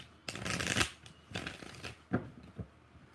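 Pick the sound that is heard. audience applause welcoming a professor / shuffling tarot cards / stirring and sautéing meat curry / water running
shuffling tarot cards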